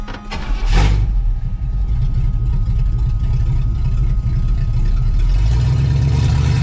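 A 1980 Pontiac Trans Am with a swapped-in 400 engine revs hard close by, a brief sharp burst early on, then a steady loud engine roar that rises again near the end.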